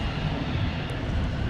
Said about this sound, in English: These takeoffs are loud, everybody.